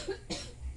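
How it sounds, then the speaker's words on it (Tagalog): A single short, faint cough from a pregnant woman with a cold, muffled and close, against a low background hum. "Ubo ng ubo."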